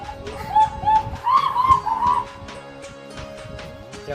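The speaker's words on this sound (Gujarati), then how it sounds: "એ અવાજ કરે છે મોરનો રિપ્લાય આવે છે" Bird calls in a forest area with wild birds and animals, a few loud close cries clustered early on, then quieter background calls.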